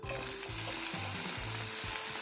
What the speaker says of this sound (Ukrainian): Поворідку я налила ложечку олії і додаю сюди ось так накришену цибульку.